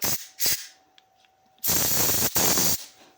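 Compressed air blows out the carburetor of a Stihl MS 361 chainsaw in sharp bursts: two short blasts, a pause with a faint whine, then two longer loud hissing jets.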